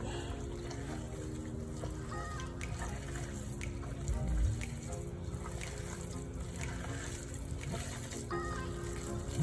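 Tap water runs steadily into a sink while hands are washed before mixing meatloaf, a continuous close splashing with occasional louder gurgles and small clunks.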